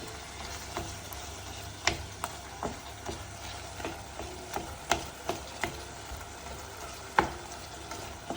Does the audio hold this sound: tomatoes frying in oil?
yes